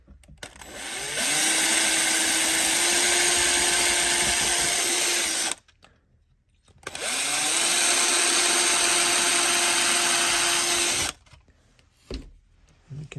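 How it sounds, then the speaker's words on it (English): A high-pitched drill whines steadily while drilling into a 1:18 die-cast Maisto Chevy Bel Air model, in two long bursts of about four to five seconds each, with a short pause between and a few clicks at the end. "I'm just going to try drilling the hole down first."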